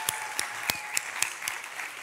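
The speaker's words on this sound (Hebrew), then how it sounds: "מחיאות כפיים לכם ממני" Applause at a Denmark high school gathering: a sparse, uneven patter of claps from a small group, close by and moderately loud.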